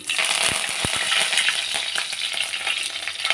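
Curry leaves dropped into hot oil for restaurant-style upma, a loud close steady sizzle and crackle with a few sharp pops and stirring clinks early on.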